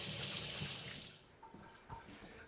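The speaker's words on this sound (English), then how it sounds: "I do need to wash my hands." Tap water runs into a sink while hands are washed in a kitchen, a steady close rush that fades after about a second into softer splashes and drips.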